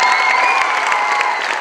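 A theatre audience claps loudly and continuously in a dense, close wash of applause with some cheering mixed in, lasting throughout.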